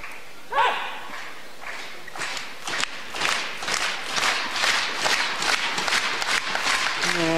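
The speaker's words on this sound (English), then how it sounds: "good to hear the crowd getting involved." Spectators at a men's doubles table tennis final of the 2014 German Open cheer and clap in rising, dense bursts, a lively crowd roar with a brief shout near the start.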